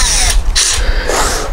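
A power drill bores into the wood of a raised bed planter box, whining in short bursts as the trigger is squeezed and released, loud and close with no talk.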